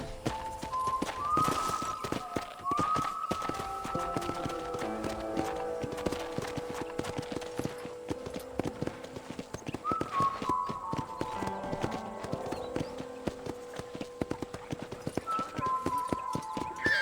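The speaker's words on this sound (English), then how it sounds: "let's see if you can still ride a horse" Steady clip-clop of horse hooves at a trot in the video game Red Dead Redemption, continuous and fairly loud, with a horse whinnying and soft tonal music or chimes layered over it.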